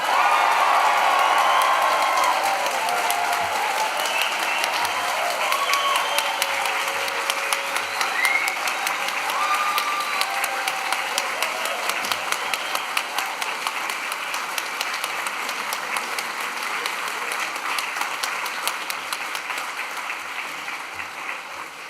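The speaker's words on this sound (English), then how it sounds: "raise the roof with a big cheer and applause" A large graduation ceremony audience applauds and cheers for a long stretch, dense clapping with scattered whoops and shouts that gradually thins and fades toward the end.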